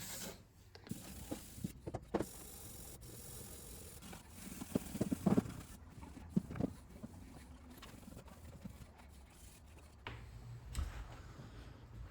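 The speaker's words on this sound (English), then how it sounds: "Scotch-Brite pad really gives it that final go over." Scotch-Brite pad scrubbing parts on a 2002 Honda CR250 motorcycle during restoration, a quiet, continuous rasping rub with scattered sharper scrapes and knocks, close by and without speech.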